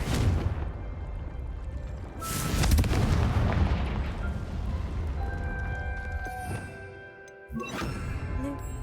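Repeated Confringo blasting spells in Hogwarts Legacy, a video game: loud booming blasts with a big impact around three seconds, dense rumbling layered effects and ringing tones, then another sharp burst near the end.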